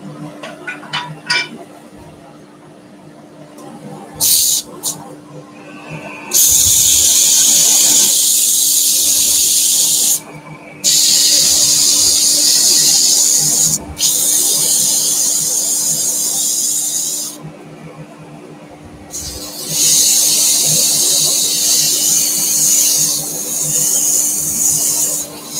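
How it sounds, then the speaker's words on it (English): Sanding wood in a workshop with 150-grit abrasive, a loud harsh rasping that runs in long sustained bursts broken by brief pauses, close up and alone. "Now we can sand."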